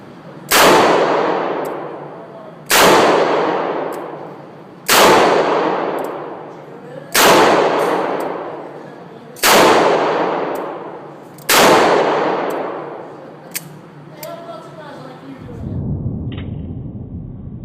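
Six loud shots from a Smith and Wesson Model 15 revolver firing .38 Special rounds, evenly spaced about two seconds apart, each with a sharp crack and ringing decay, followed by metallic handling noise.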